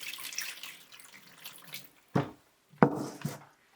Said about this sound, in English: So I'm going to fill it with a little bit of cold water first